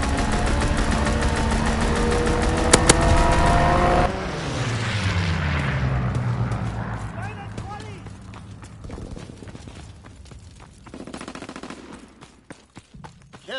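Strafing run in a PS4 shooter: a loud, continuous hail of rapid gunfire and impacts fills the first seconds, then fades into rumbling explosions and scattered shots, with game voices over the action.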